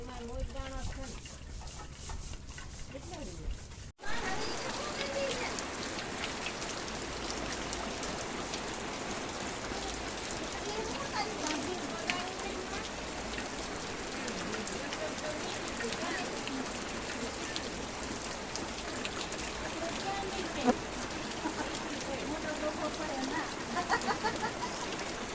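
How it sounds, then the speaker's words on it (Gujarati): A sudden downpour starts during a village fair, a dense, steady hiss of rain hitting surfaces close by, with people talking throughout. "વરસાદ આવી ગયો."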